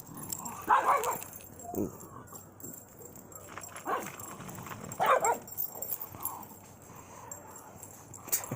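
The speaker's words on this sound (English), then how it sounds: "Dog just barking at nothing." A dog barks outdoors at night in a few scattered bursts, moderately near, with a brief human exclamation and faint background noise between barks.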